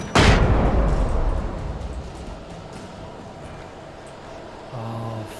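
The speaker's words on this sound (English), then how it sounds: "I have upgraded to better shotgun" A super shotgun fires once in the video game Alan Wake, a loud close boom that rolls off into a long decaying rumble, followed by a faint low tone near the end.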